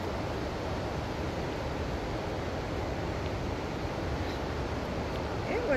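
Water at a Rock Island State Park waterfall in Tennessee roars in a constant broad rush, steady and enveloping, with faint wind buffeting near the end.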